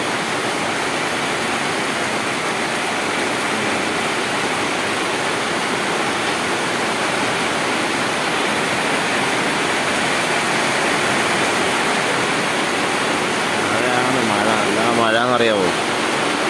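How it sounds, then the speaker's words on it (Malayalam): Heavy evening rain pours down in a steady, dense roar that fills the whole stretch, with a voice briefly rising over it near the end. "ഫുള്ള് മഴയാണ്"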